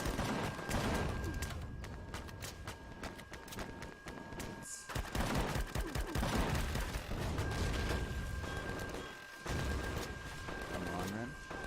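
Drones and defense towers in the video game Empyrion fire on a base and blow it up, giving sustained dense gunfire and explosions with mechanical tones and beeps, mixed with a player talking.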